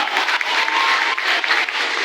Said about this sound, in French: Alors, applaudissons pour eux.